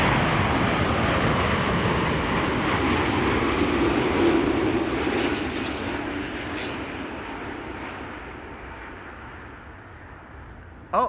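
A KLM Boeing 787-10 Dreamliner arrives at Amsterdam Schiphol, a loud broad jet roar that slowly fades away as it passes, ending with a brief sharp noise.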